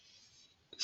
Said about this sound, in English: So we will take a moment and we will write that out as well